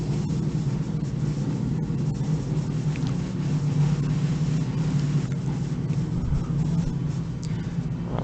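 Airliner engines spooling into reverse thrust on the landing rollout in a flight simulator, a loud continuous low roar with a rumbling hum that stays steady throughout.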